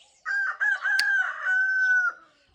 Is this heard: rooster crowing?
yes